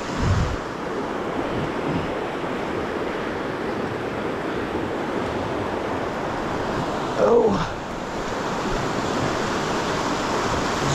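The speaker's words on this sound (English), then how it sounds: "today, guys, I am on the Logan River." The Logan River in Utah rushes steadily in a dense, loud wash of water noise that runs the whole time, with gusts of wind buffeting the microphone and a brief louder splash near the end.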